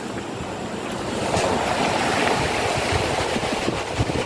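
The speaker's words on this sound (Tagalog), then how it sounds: "Dalampasigan." Waves wash onto a seashore at a village beach, a broad continuous surf roar that swells slightly, with some wind rumble against the microphone.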